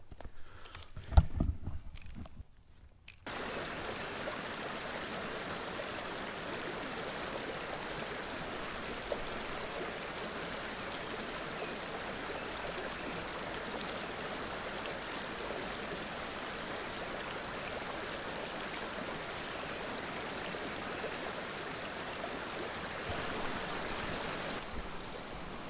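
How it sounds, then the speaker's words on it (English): A river rushes steadily beside a hiking trail on Blue Mountain near Collingwood, Ontario, a continuous wash of flowing water after some brief handling noise at the start. "We've arrived at the river. Absolutely beautiful."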